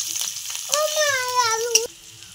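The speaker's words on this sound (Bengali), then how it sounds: "এবার ওই তেলে আমি দিয়ে দিচ্ছি কুচিয়ে রাখা পেঁয়াজ।" Chopped onion tipped into hot oil left from frying potatoes, giving a broad close sizzle and crackle with a rising tonal whine over it, then settling back to a softer fry.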